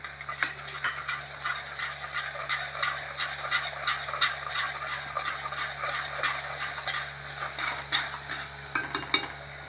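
Onions fry with salt in a pan, a steady close sizzle with repeated stirring and scraping of a utensil against the metal, busier clinks near the end, and no voices.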